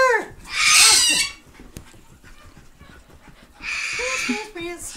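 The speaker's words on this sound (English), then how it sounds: "This is my dog." A dog pants in two loud, close bursts with a quieter stretch between them, and a few faint whimpering tones come through.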